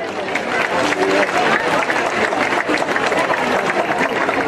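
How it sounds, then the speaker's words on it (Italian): A crowd at an outdoor village festival in Melito Porto Salvo applauds, a loud, continuous wash of clapping that holds steady throughout with voices mixed in. "Va bene, gli facciamo un applauso."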